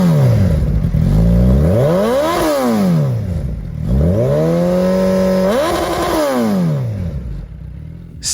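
A Suzuki Hayabusa motorcycle with a 1,340cc inline-four engine revs up and down repeatedly, with deep, strong rises and falls in pitch, close and loud, with no one talking.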